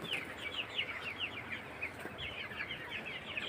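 Chickens on a poultry farm cluck and squawk repeatedly and steadily, a close, busy flock sound running throughout with no talking.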